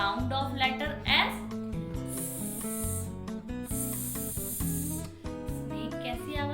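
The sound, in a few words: voice imitating hissing snake, the sound of letter S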